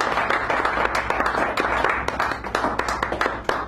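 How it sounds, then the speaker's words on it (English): A café audience at an SF poetry hour claps steadily and close by, with dense, uneven handclaps and a few sharper slaps standing out, and no one speaking over it. "A nice round of applause for James."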